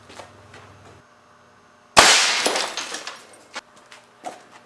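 An air cannon fires a single loud, sharp blast at a CRT television, the burst tapering into clattering, breaking debris with a few scattered impacts after it.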